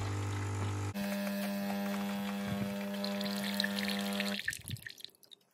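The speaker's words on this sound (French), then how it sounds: "le cycle de nettoyage, il y a de l'eau qui va passer dans le circuit" Water flows steadily through the internal circuit of a Jura ENA coffee machine during its cleaning cycle, a continuous close pumping and pouring sound with a steady hum that cuts off near the end, leaving faint drips.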